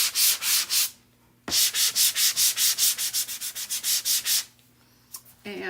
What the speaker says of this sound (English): you just go ahead and do a little sanding